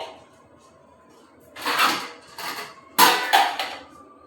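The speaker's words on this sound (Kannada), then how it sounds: "ಪಾತ್ರೆ ಎಲ್ಲ ಜೋಡಿಸಿ ಇನ್ನು ಸೆಲ್ಫ್ ಎಲ್ಲ ಒರೆಸಿದ್ರೆ ಮುಗಿತು" Dishes, pots and pans being stacked and put away in a kitchen, several separate clattering bursts of metal and crockery knocking together, close by, with quiet gaps between.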